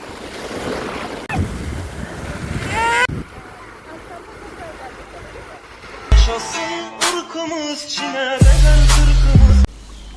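Black Sea surf washes against the shore in a steady rushing wash buffeted by wind, broken by bursts of people talking and loud microphone handling noise.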